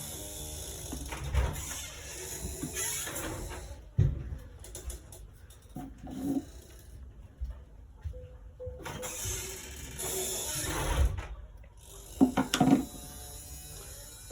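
A sewing machine stitches a stripe onto the side of a pair of trousers in short, buzzing mechanical bursts separated by pauses, with faint background noise and no talk.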